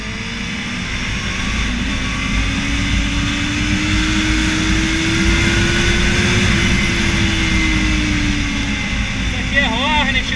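A Honda Hornet motorcycle engine drones steadily while riding on a street, its pitch rising slowly then easing off, close and loud with wind, as people talk over it.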